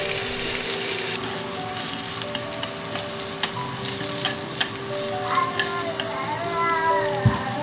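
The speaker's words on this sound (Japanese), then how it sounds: "表面に焼き色がついたら玉ねぎとさつまいも、レンコンを加えてさらに炒めます。" Onion, sweet potato and lotus root stir-frying in a pan, a steady close sizzle and crackle with scattered clinks and scrapes of stirring, no talking.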